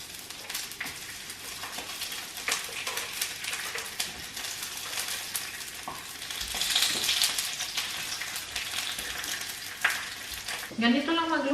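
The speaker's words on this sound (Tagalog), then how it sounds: "Ganito lang magluto ng tuyo. Sobrang saglit lang." Tuyo, dried fish, sizzles and spatters in a hot pan with a steady crackling hiss that swells midway, with a few faint clinks and a brief voice near the end.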